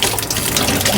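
Antifreeze gushes steadily from the cold water tap of an RV, a loud, continuous splashing pour that fills the whole second without pause or voices.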